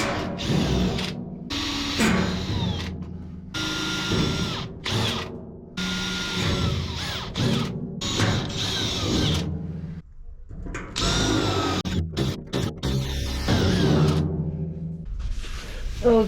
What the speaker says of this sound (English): So let's see if I can drill these out.